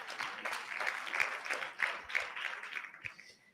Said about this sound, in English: let us clap for ourselves